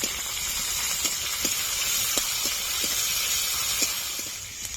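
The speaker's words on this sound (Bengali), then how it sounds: "পেঁয়াজ আর টমেটোটা ভালো করে একসাথে ভেজে নেবো" Chopped onion and tomato fry in a pan, a steady close sizzle and hiss with faint scattered ticks from the spatula, continuous and without talking.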